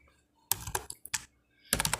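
Computer keyboard typing while writing a short Python program: two quick bursts of close keystrokes separated by a short silence, with no voice.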